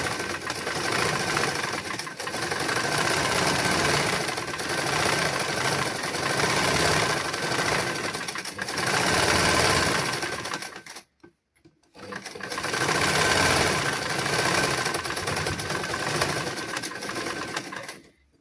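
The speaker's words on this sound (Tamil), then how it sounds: "இனி நாங்கள் வந்து சுற்றி வர நாங்கள் தைப்போம்." A sewing machine stitches around the curved edge of a children's garment, a fast, steady mechanical whirring that runs loud and close, stops briefly near the middle, then resumes to the end.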